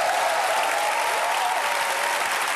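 Studio audience at a Korean KBS comedy show clapping together, a dense, even wash of applause held at a steady level throughout, close and fairly loud.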